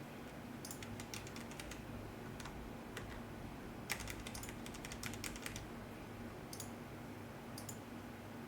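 Typing on a computer keyboard: rapid bursts of light key clicks in quick irregular runs with brief pauses, fairly quiet and close over a steady background hum.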